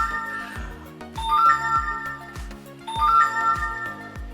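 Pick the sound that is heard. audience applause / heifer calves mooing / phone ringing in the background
phone ringing in the background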